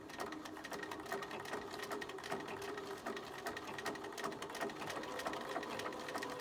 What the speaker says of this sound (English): I found on my machine, I have to do this fairly slow, or it might skip a stitch.